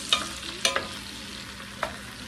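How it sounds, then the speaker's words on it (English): A spoon stirs a pot of potato soup, making a few sharp clinks and scrapes against the pot over a quiet background hiss. "We're just gonna give this a good stir."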